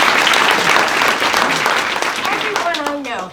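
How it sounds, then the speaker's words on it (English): Audience at a public library's 100-year anniversary ceremony gives a strong round of applause, dense clapping that fades out over about three seconds while a speaker begins talking over it. "Another round of applause."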